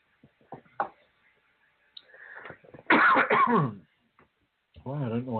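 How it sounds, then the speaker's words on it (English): A man coughs and clears his throat several times at close range, short rough bursts with pauses between them, followed by a brief spoken word. "I don't know why I'm coughing so much"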